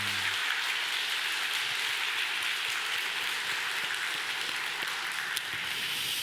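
Church congregation applauding at a Sunday worship service, a steady, dense wash of clapping that fills the room evenly from start to finish without voices over it.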